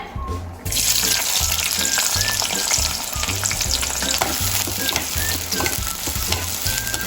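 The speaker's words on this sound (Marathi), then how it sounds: "आता आपण याच्यामध्ये कांदा घालून घेऊया" Onion frying in leftover oil for a Malvani prawn biryani, a loud steady sizzle with stirring, close and continuous after a brief quieter start.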